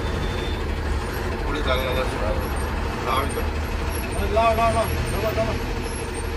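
An MSRTC red state-transport bus pulls to a halt with a hiss of air brakes over a steady low engine rumble, with people talking nearby.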